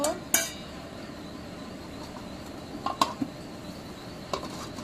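A spoon clinks and scrapes against a cooking pot as a spiced curry is stirred. Sharp metallic taps arrive in scattered bursts over a low background hiss, fairly close.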